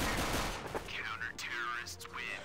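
Gunfire rings out in Counter-Strike: Global Offensive as a few quick, fairly faint shots crack over a muffled background, with voices talking over them.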